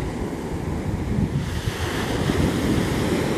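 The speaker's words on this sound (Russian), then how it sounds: "слушать, как шумит море" Waves of the Mediterranean Sea rolling onto the shore, a steady loud wash of surf mixed with gusty wind noise on the microphone, continuous with no talking.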